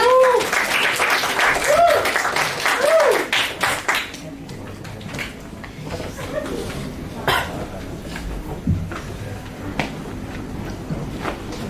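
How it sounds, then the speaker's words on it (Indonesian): Seminar audience clapping on a presenter's urging, a scattered patter of hands with a few coughs and chuckles, heard first under a loud amplified voice, then continuing more thinly and softly on its own. "Tepuk tangannya lebih keras lagi teman-teman."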